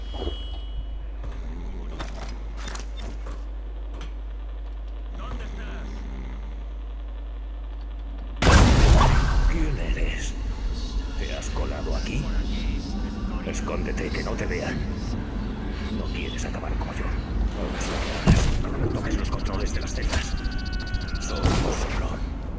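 A sudden loud gunshot-like blast in Dishonored: The Brigmore Witches cuts in after a quiet stretch, followed by dense, noisy game action and talk, with another sharp bang near the end.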